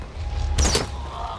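Gunfire and a heavy burst in Far Cry 4 during a firefight, a single loud broadband blast near the middle over a low rumbling background.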